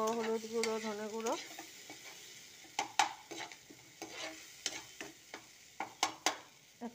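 Cumin, turmeric and coriander powder frying in a pan, a soft sizzle with repeated scraping stir strokes and clinks after an opening tonal hum, close and moderately quiet, with no talk.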